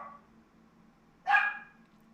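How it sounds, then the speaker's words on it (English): A single sharp dog bark rings out near the microphone after a quiet stretch of low background hum, trailing briefly into a short yelp-like tail. "Dog is not happy still."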